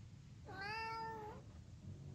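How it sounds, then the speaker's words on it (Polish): A single clear cat meow rises and falls over about a second in the horror cooking game Ravenous Devils, heard against a low, quiet ambient background. "Tu jest kotek nasz."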